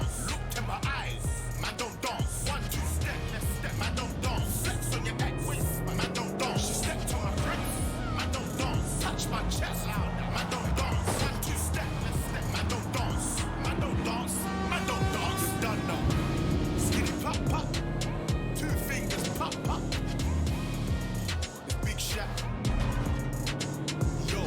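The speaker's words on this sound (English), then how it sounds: "So interesting like how each car handles are completely different from each other." A car driven through London streets in the video game Watch Dogs: Legion hums with a continuous engine drone, mixed under in-game music and someone talking over it throughout.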